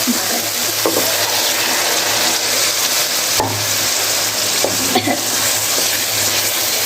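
Fresh spinach frying in spiced oil in a home kitchen pan for a palak and chana dal dish, a steady close sizzle running throughout with a few soft stirring clicks and no talking.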